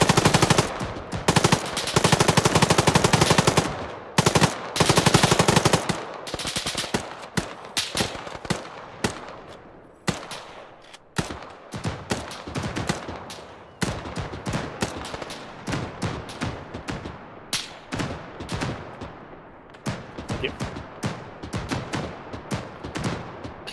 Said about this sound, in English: It sounds like there's another autocannon over to the southwest